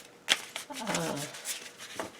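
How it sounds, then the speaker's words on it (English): A thick deck of tarot cards being shuffled by hand, a short riffling flutter with a sharp snap at the start, close and fairly quiet. "let me see if I can shuffle it."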